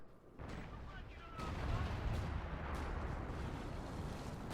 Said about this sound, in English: Order all available 25-pounder howitzers in the British Army HQ to quickly fire to targeted location